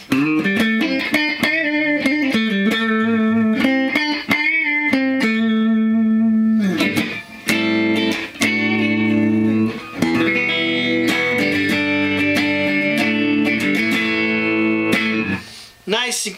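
Mike Gee Kustoms custom electric guitar played through both pickups on a clean tone, a run of plucked chords and single notes ringing out with brief pauses, clear and close.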